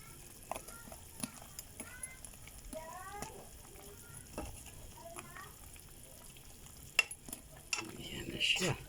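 Spicy Korean noodles being stirred and fried in a pan: quiet, scattered scrapes and utensil clinks over a faint sizzle, with a voice murmuring in between.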